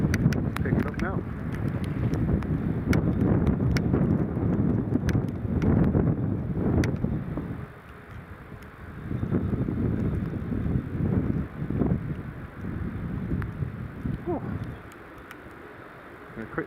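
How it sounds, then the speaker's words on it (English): Strong gusts of Storm Lilian buffet the microphone outdoors at Newcastle International Airport, a loud roaring rumble that swells and eases in long waves, with brief rattles and driving rain. "It's the wind's really picking up now."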